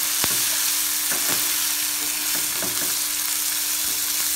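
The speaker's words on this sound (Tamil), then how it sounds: "இப்போ தக்காளி ஆனியன்லாம் ரொம்ப நல்லா வதங்கிடுச்சு." Tomatoes and onions sauté with turmeric in a pan for a drumstick-leaf kootu. A loud, steady sizzle is broken by occasional spatula taps and scrapes, and a faint hum runs through it.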